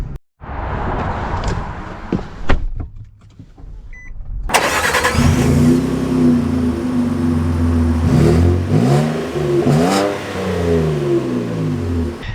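A Nissan Frontier pickup truck engine starts and revs repeatedly, loud and close, with rising and falling pitch sweeps over a steady idle.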